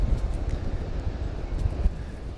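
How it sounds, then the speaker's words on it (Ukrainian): Strong wind buffets the microphone on the coast of northern Scotland near the tiny fishing village of Crovie, a steady low rumbling roar with gusty swells and no voices. "К сожалению, тут вітер сумасшедший."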